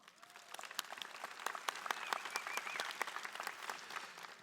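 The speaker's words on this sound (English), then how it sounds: "So please give yourselves a round of applause." Sustained applause from a large crowd at a 2016 presidential election forum, dense clapping that swells slightly and holds steady throughout, with no voices standing out.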